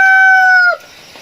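A rooster belonging to a grandfather's flock in rural Rizal province crows once, loud and close. The call holds a long steady note and then breaks off sharply into quiet surroundings.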